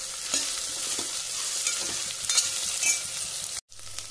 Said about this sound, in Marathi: आणि आता हे मातशें परतुया पयलीं, म्हणजे भेंड्याची बुळबुळीतसाण आसा पळय ती तेलान वयतली।